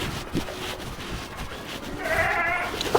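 Goats bleat in a morning feeding session on a farm, with a few nasal calls standing out near the end over steady background noise.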